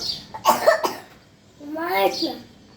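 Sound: child coughing

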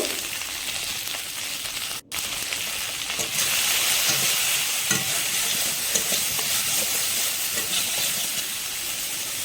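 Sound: okra frying in oil with salt and turmeric

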